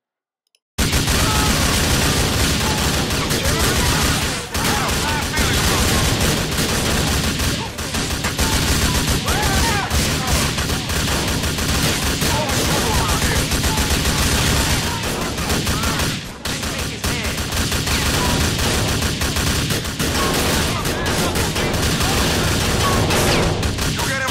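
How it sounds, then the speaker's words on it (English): Rapid, loud bursts of automatic shotgun fire in a GTA 4 shootout, dense overlapping blasts and clicks repeating almost continuously with brief gaps, close and harsh. "This is where I switched to the automatic shotgun."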